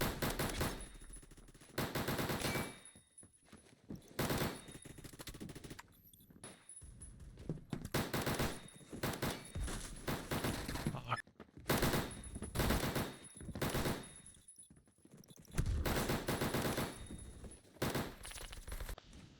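Rapid bursts of gunfire from the video game Phantom Forces, loud and near, firing in repeated volleys with short gaps between them, with no talk over the shots.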